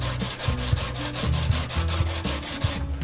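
A tungsten carbide lathe tool with a steel shank is rubbed back and forth on a sharpening stone by hand, producing regular gritty scraping strokes about four per second, close and steady, with no talking.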